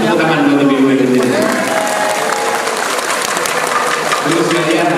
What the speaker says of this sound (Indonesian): Tepuk tangan buat ibu-ibu di sini.